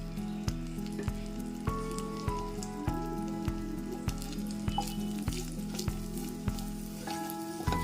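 Cardamom, bay leaf, cumin and kasuri methi sizzle steadily in hot oil for a paneer gravy, a constant dense crackling with regular faint stirring taps and clinks throughout, close up and without speech.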